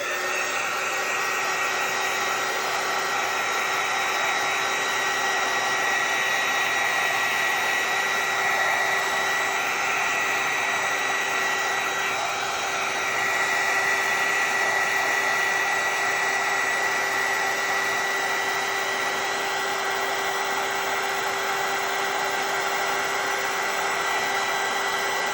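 A hair dryer blows steadily to dry tacky glue on a vinyl-wrapped tumbler, a constant loud whooshing hum with a faint whine, running alone without pause.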